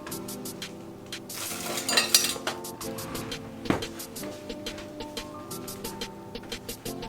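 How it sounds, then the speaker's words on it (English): Bolognese sauce spooned onto pasta on a plate, with soft clinks of a spoon against crockery, a brief louder clatter, then a run of light, regular taps. No talk. "So I'm just gonna spoon some of this on my pasta."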